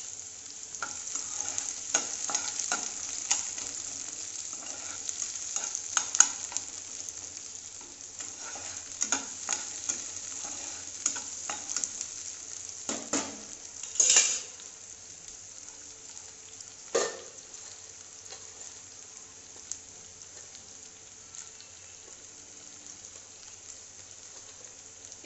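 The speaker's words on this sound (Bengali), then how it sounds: "তো তার জন্য আমি পেঁয়াজ আর রসুন কুচি দিয়ে দিলাম।" Chopped onion and garlic fry in fish oil for a potato dish, a steady sizzle running throughout with occasional scrapes and knocks as the pan is stirred, close and moderately loud, with no talking.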